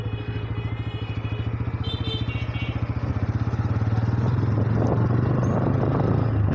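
A Pulsar N160 motorcycle engine thrums with a steady rapid pulse while riding through a market, close and loud, building slightly as it accelerates with road and traffic noise around.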